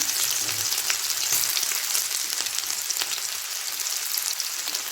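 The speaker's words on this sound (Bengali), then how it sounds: "আর এই যে লঙ্কাটা, এটা আমি একটু ভেজে নেবো।" Chopped ginger and green chili frying in hot mustard oil, a steady close hiss of sizzling with faint crackles running unbroken from start to finish, no voices.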